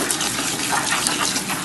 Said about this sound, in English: Fill your bucket up with a little bit of water.